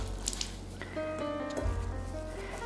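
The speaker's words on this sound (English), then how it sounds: "So we're gonna squeeze some water out." A wet soil block is squeezed by hand, giving a soft close squelch with faint trickling and dripping of water, quiet and alone with no talking.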